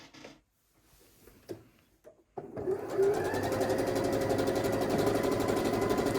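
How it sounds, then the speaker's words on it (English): A sewing machine sews a quarter-inch seam along the side of a quilt block, starting after a few soft handling clicks and then running continuously with a steady rapid needle clatter and motor whir, close up. "So now what I'm going to do is I'm going to sew 1/4 inch down."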